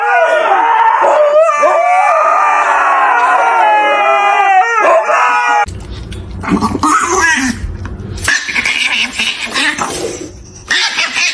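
Dogs howling loudly and close, a long drawn-out howl with wavering pitch for several seconds, then excited yips, barks and gargly vocal noises in a jumbled mix.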